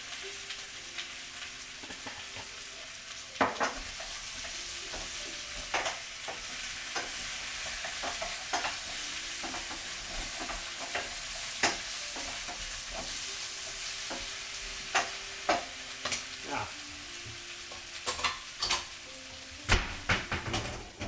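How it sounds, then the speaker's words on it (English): Potatoes, onions, sausage and okra frying in oil in a pan, a steady sizzle under repeated sharp scrapes and clacks of a stirring utensil, close and fairly quiet. "Stir it around and get it coated a little bit."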